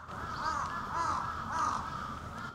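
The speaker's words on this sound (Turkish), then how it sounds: "Karga seslerini dinleyerek." Crows caw in rural Japan, three harsh, loud calls at a steady pace, fairly close and clear against a quiet outdoor background.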